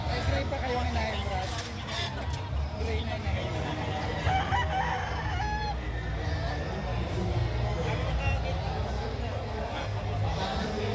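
Gamefowl broodstag roosters crow at a crowded expo in Clark, Pampanga, their calls carrying through a steady hubbub of voices and background noise, with someone speaking over the scene.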